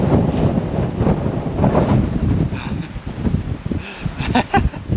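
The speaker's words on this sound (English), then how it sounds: "She's bloody windy!" Strong wind roars and buffets against the microphone in uneven gusts for the whole stretch, with faint rustling underneath, on an exposed rock summit at Red Bluff, Quobba, Western Australia.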